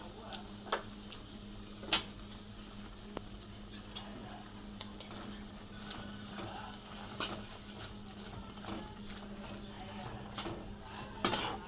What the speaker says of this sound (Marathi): आता आपल्याला कमी गॅसवर हे बेसन पूर्ण भाजायचं